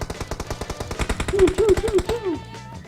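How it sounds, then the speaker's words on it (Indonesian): Automatic gunfire in PUBG Mobile, a fast regular stream of close, punchy shots lasting about two seconds and then cutting off, with a brief voice over the middle of the burst. "Ini tembak, ya suara."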